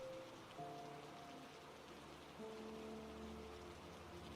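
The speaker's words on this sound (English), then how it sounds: "Listen closely to the rhythm of the raindrops." Quiet, steady rainfall patters on surfaces in a dense, even wash, with faint low tonal hums drifting underneath as soft meditation backing.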